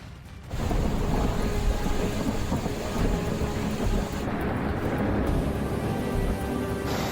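Heavy rain pours down steadily with deep thunder rumbling under it, a dense, loud, continuous wash that starts abruptly after a brief quieter moment.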